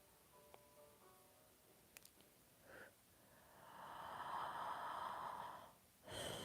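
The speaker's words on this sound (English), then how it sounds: "I'm breathing in the steam." Slow, steady breaths drawn in and let out close by, a soft airy rush rising and falling, with a couple of faint clicks early on.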